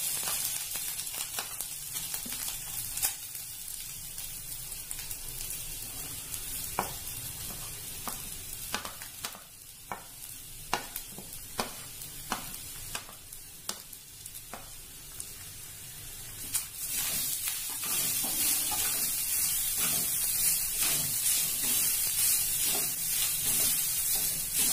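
Coconut, shallots and black pepper sizzle and fry in hot oil for a masala, a steady hiss with scattered stirring clicks and scrapes that grows louder and denser toward the end.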